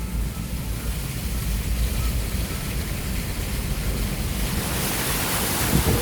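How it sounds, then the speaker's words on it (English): Floodwater overflowing across a street in Suriname, a steady broad rush of moving water with wind buffeting the microphone, continuous and fairly loud throughout with no speech. "This here is overflowing right now. Look at all the street."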